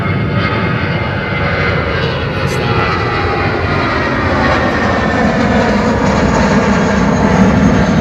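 At London Heathrow, an airliner aborts its landing and goes around, its jet engines spooling up into a loud, sustained roar that swells slightly toward the end.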